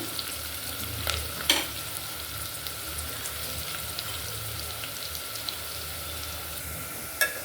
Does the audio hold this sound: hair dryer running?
no